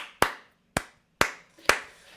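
Four separate claps ring out one by one with long gaps, thin scattered applause from just a handful of people in a Japanese theatre audience where clapping is uncommon.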